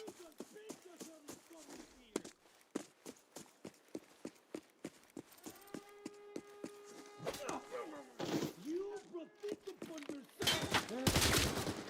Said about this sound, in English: AK-12 going off.